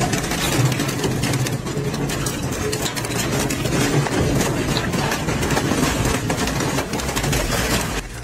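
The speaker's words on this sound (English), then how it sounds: "The shredder destroyed the Viking engine" An industrial shredder grinds through a Viking engine with a continuous, loud mechanical roar. Dense crunching and rumbling go on steadily without pause.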